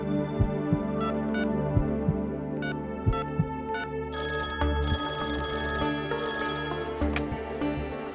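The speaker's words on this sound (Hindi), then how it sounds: "समीर बाबा के लिए फोन है" A telephone rings in a scene from a Hindi TV series, its repeated electronic bell bursts sounding over a steady thumping music bed, with brighter ringing clusters toward the end.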